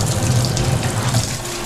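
A tub shower faucet gushes steadily, a close, continuous rush of running water filling the bathtub.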